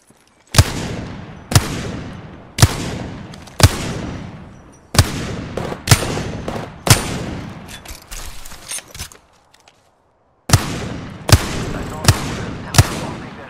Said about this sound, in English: Opening fire enemy.